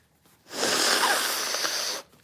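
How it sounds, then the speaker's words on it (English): A single long, forceful nasal blow lasting over a second, close and loud, with a wheezy hiss and nothing else around it. "Need to blow my nose."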